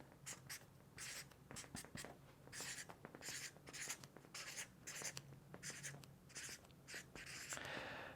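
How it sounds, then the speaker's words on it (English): A pen or marker writes on a surface up close, giving quiet, quick scratchy strokes in short irregular bursts, with no talking. "So I'm gonna write that here so it's easy to understand."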